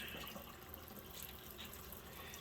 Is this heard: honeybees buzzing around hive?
no